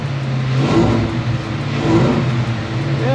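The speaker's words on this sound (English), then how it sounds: "Let's get in here and rev it up just a little bit" Untuned Ford Coyote V8 revving in a few short blips, a steady rumbling idle rising and falling in pitch, close and fairly loud with no talk.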